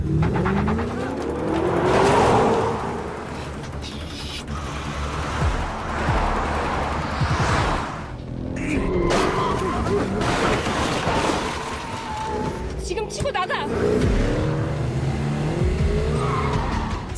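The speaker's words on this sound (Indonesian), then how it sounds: "mereka pun nekat menerobos palang pintu belakang dan berhasil melarikan diri" A car skids with squealing tires and roaring engine, ramming through a barrier at a back gate and speeding away, loud and sustained with bursts of impact and revving throughout.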